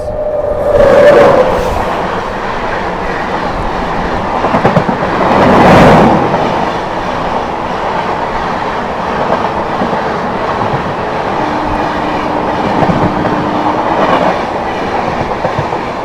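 The Anand Vihar–Kamakhya North East Express passes close by, a loud rolling rumble with rhythmic wheel clatter over rail joints, a brief horn-like tone at the start and swells of noise as coaches go by.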